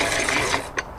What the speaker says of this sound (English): turn the crank. See the dowel coming out the end.